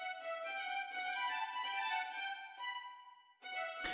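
Short, detached staccato string samples play in a quick, clipped run, then pause briefly before another sharp burst, close and clean with no voices.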